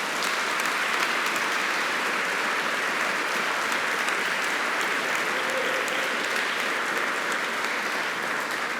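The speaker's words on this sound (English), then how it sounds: "Can you please give them all a round of applause?" A large audience at an evening oration giving a sustained round of applause, a thick, even wash of clapping from many hands that holds steady without pause.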